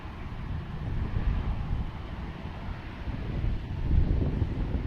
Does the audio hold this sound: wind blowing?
yes